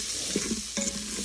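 Metal spoon scraping stuck cayenne seasoning off the bottom of an Instant Pot while browning oxtail for stew, a steady close sizzle with a couple of short scrapes against the pot.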